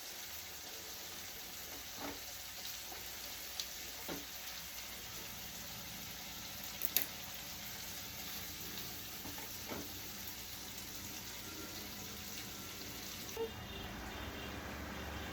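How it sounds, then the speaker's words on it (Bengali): Onion sizzling as it fries in a pan, a faint, even hiss with scattered small pops and knocks from stirring, continuing quietly without any voices. "পেঁয়াজটা দিয়ে ভাজছি,"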